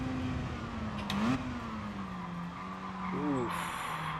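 A rear-drive race car in Gran Turismo Sport on PS4 brakes into a corner with a steady engine drone and tyres squealing and skidding. A commentator's voice sits quietly underneath.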